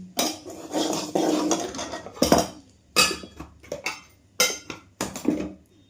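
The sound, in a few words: cooking pots and utensils being moved aside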